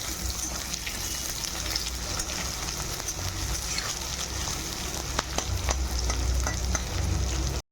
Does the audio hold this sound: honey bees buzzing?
no